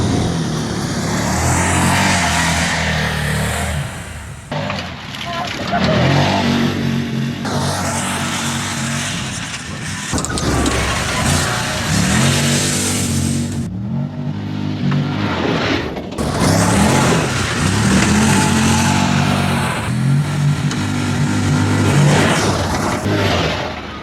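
A Can-Am Defender Max four-wheel UTV climbs a snowy hill, its engine revving hard and steady throughout, loud and close with repeated surges and brief dips in throttle.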